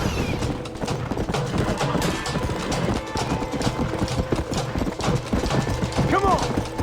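Rapid, irregular hoofbeats clatter steadily as horses trot along in Red Dead Redemption, with a brief whinny near the end.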